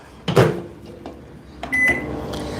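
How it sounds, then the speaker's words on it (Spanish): A microwave oven door is pulled open and sticks, giving a sharp clunk followed by a second rattling knock and a brief electronic tone, close by with no talking. "Como que se tranca la puerta del microondas al abrirse."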